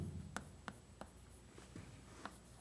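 Chalk or marker writing on a board during an arithmetic lecture, a series of short scratchy strokes spaced irregularly over a couple of seconds, fairly close with a quiet room behind and no talking.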